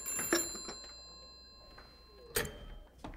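A telephone rings in a quiet room, two short bright bursts of ringing spaced about two seconds apart, fairly near and alone without any talk.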